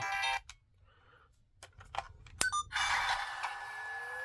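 Kamen Rider Kaixa Gear toy phone chiming when flipped open, short electronic tones and beeps separated by quiet gaps, then a sustained bright jingle close to the microphone.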